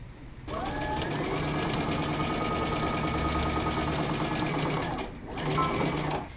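A sewing machine runs a fast, steady stitching rattle along a jacket shoulder seam, stopping briefly and then starting again for a short final burst.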